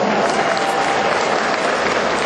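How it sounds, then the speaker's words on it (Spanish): Loud, sustained applause from a festival audience at a regional chamamé festival in Goya, steady dense clapping filling the whole stretch with crowd noise and no clear pauses. "fuerte, pero bien fuerte el aplauso"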